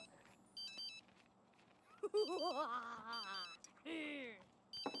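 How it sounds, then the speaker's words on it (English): A telephone rings in The Sims 3, its repeated electronic trill bursts appearing in short clusters, while a game character's warbling simlish-like voice chatters loudly in between. "are you going to answer the phone?"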